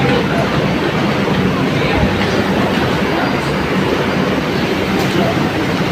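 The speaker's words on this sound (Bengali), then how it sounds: "সবে মেট্রো স্টেশনে এন্ট্রি করেছি।" Ambience at the entrance of a metro station: a steady, dense wash of rail and crowd noise with a low rumble, continuous and fairly loud throughout, with no clear voices standing out.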